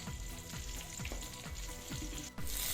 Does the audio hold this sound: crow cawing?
no